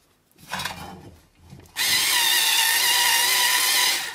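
Power drill with a countersink bit boring into wood, one short burst then a loud, steady high-pitched grinding whine held for over two seconds.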